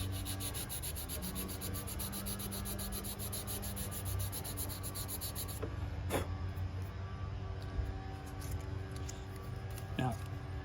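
Hand sanding on a Native American ceremonial pipe makes a steady, fast rhythmic rubbing rasp, close and fairly soft, with a few sharp ticks, while someone talks over it.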